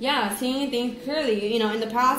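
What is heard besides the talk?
No everyday noises stand out.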